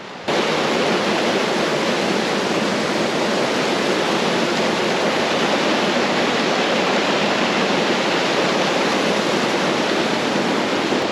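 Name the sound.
water running over the Rhodes Pond dam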